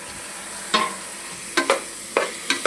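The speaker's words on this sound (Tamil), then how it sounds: "நல்லா கிண்டிடுவோம்." Carrot, potato and green peas are stirred with masala in a frying pan for veg biryani. Several brisk, close scraping strokes repeat over a faint background sizzle.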